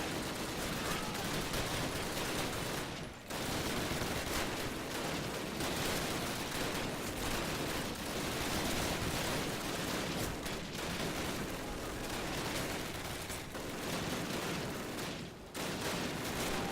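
Dense, continuous gunfire and explosive bursts from a Call of Duty battle, loud and relentless throughout, with only a couple of brief dips.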